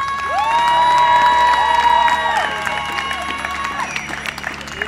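Crowd at an outdoor pro-Palestine demonstration in Lyon applauding and cheering loudly throughout, with whistles and shouts rising over a dense wash of clapping.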